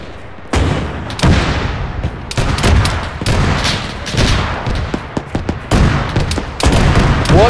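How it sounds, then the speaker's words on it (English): An anti-tank gun fires in the Arma-based World War II game Iron Front amid loud, dense battlefield gunfire, with repeated heavy bursts and booms overlapping through the stretch. "That's an AT gun."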